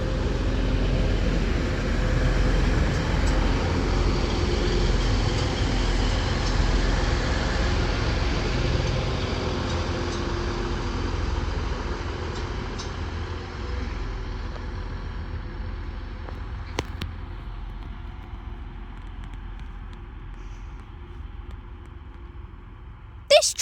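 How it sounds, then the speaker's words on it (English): A Transpennine Express Class 185 diesel train pulls into Stalybridge station on the Huddersfield line, a broad, steady rumble that slowly fades and thins toward the end. "This Transpennine Express Class 185 arrives into Stalybridge now with the 1512 Transpennine Express service"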